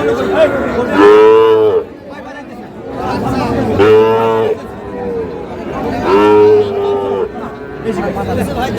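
Sahiwal-breed bulls and calves moo three times in long, deep, drawn-out calls at the traditional Amabari cattle market, with steady crowd chatter and voices underneath throughout.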